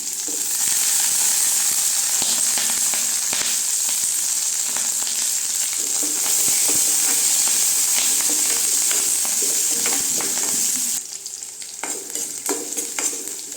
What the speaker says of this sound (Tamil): பாருங்க, வெங்காயம் மிளகாயெல்லாம் வதங்கிடுச்சுங்க